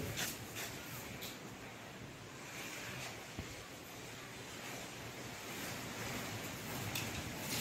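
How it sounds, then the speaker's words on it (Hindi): Strong wind blows outdoors on a cool, sunny morning where mangoes fall from the trees, a steady broadband rush with gusty swells that is fairly faint and continuous throughout. "हवा तेज चल रही है, आम गिर रहा है।"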